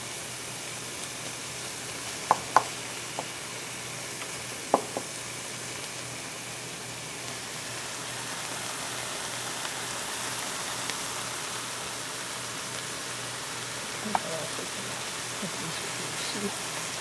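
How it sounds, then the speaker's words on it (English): Jalapeno cooks in butter in a pan with a soft, steady hiss throughout, marked by a few faint pops and crackles. "We're going to cook it in a little bit of butter."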